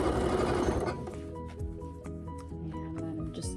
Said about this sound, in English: you can sew the entire serpentine stitch on top your sashing